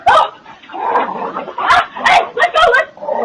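A woman imitates a dog with her own voice, letting out a run of short yipping barks and whimpers in close, loud bursts with brief pauses between them.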